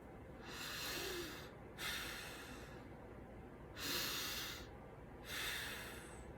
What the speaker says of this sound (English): We're going to focus on our breathing today.